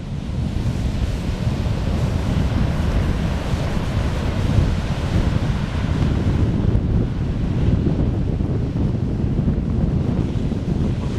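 Continuous roar of a small swell breaking along the beach near Kitty Hawk Pier on the Outer Banks, steady and loud, with wind buffeting the microphone throughout.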